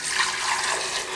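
Verjus pours steadily into a countertop blender, a continuous close liquid splash and gurgle lasting about a second with no talking.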